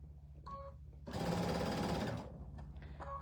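A sewing machine runs a chain stitch in one loud burst of just over a second, its rapid mechanical whir standing out against a quiet room with faint background sounds before and after.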